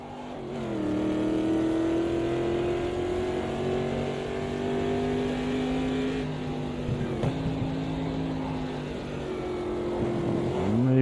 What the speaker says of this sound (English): Maybe over-rev the engine a little bit through there.